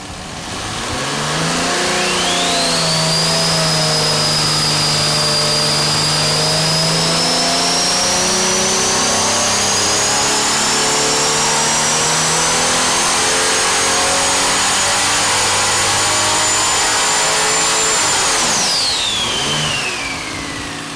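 A loud turbocharged engine with no intake plumbing revs up and holds a high, rising turbo whine for about fifteen seconds, then winds down, with a harsh raspy roar throughout.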